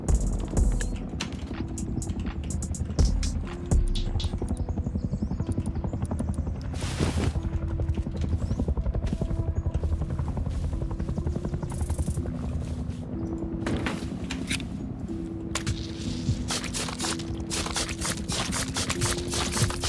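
A helicopter flies in a survival video game during a base raid, heard as a steady mechanical drone with layered game sounds and distant sharp bangs, no talk.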